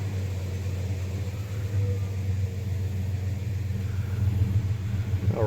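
A 1999 Dodge Ram 1500 engine idles with a low, steady rumble after a fuel pump replacement, holding constant with a slight swell near the end.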